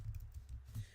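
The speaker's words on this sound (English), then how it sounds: "I'm going to see if I can type on here" Typing on a computer keyboard at a home desk, a soft run of muffled key taps close to the microphone over a low background hum, without talking.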